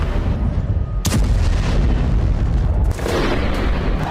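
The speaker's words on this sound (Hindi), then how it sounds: "यूक्रेनी हमलों के बाद रूस के बॉम्बर्स ने उड़ान भरी और यूक्रेन के कई शहरों पर कारपेट" Heavy explosions from Russian carpet bombing of Ukrainian cities, booming blasts in a continuous dense roar, with two sharp loud bursts breaking through the sustained rumble.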